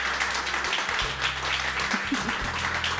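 Audience applause for a singer at a live show, steady clapping throughout under a low, sustained musical hum from the stage.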